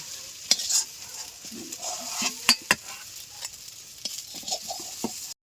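Fish ball mixture with cumin powder being stirred in a kadai: a utensil scrapes and taps against the pan in irregular clacks over a light sizzle, close and fairly loud, with no speech.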